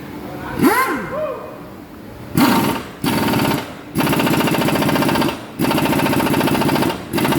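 A pneumatic impact wrench fires on the suspension bolts of a Mercedes-Benz A180 in a garage, with several loud, rattling bursts of a few seconds each. A voice is heard briefly near the start.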